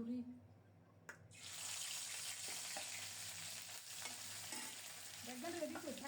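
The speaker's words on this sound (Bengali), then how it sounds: "তেল গরম হলে প্রথমে শুটকিটা ভেজে নেব লাল লাল করে।" Dried churi fish drops into hot oil and bursts into a loud, steady sizzle that continues with light stirring, after a brief quiet start.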